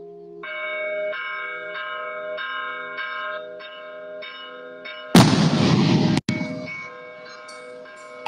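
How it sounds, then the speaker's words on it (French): Bells chime rhythmically in Bastia, Corsica, during a changing-of-the-governor ceremony, then a single loud cannon shot booms nearby and rumbles away while the ringing continues. "Ah, c'est les coups de canon, c'est les coups de canon."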